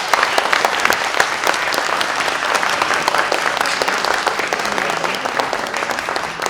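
A packed audience claps through a student union election debate, steady dense applause filling the room for several seconds with no break and no voice over it.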